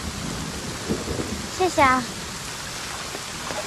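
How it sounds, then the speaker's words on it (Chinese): Heavy rain pours down steadily in a dense, even hiss that fills the whole scene, while a person speaks briefly over it. "这孩子不打个伞，你看这么大雨。"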